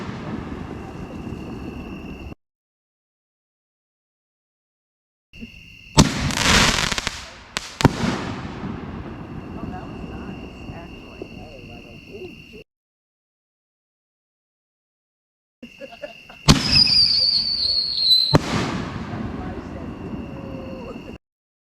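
Several 6-inch GoldenEye shells with tail effects launch and burst in loud, booming bangs followed by crackling, hissing tails, the bursts coming in separate bouts with silent gaps between them.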